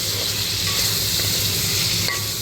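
Spicy chicken frying in oil, close and loud, with a dense, constant sizzle and faint stirring scrapes underneath throughout.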